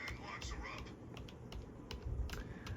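The 2 key pressed on a computer keyboard during a Batman game mod tutorial, heard as a few soft, separate clicks among quiet typing, with a voice murmuring faintly beneath.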